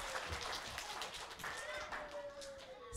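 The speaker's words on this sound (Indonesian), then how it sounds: "Iya, tepuk tangan semuanya." Young children at a kindergarten event clap hands together, a faint, loose patter of small claps in a busy room with background voices and a thin tonal sound drifting underneath.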